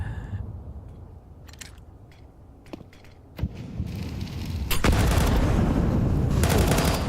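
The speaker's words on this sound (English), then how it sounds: "That's a full damage nade straight into Jambo" Counter-Strike match audio: sharp gunshots crack one by one over a quiet background, then a grenade bursts and heavy, sustained gunfire fills the final seconds, loud and dense.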